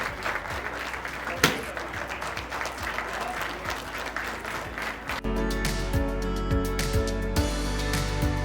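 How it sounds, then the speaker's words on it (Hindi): Audience at a children's award function claps enthusiastically, a steady wash of applause joined midway by loud amplified music with a heavy low beat that continues to the end. "तालियां जोरदार बजती रहनी चाहिए।"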